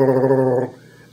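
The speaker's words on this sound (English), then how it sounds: "it makes a loud growling sound or grumbling sound like this." A Sloan flush valve on a toilet or urinal grumbles after flushing: a loud, low, buzzing growl with a strong harmonic drone lasts about half a second and then cuts off abruptly into quiet.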